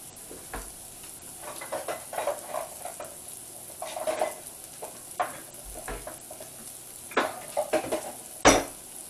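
Brown rice sizzles and browns in a pan while being stirred and swished around, a soft continuous fry broken by irregular scrapes and clinks of a utensil against the pan, ending with a sharper knock.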